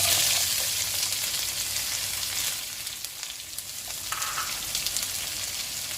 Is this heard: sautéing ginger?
yes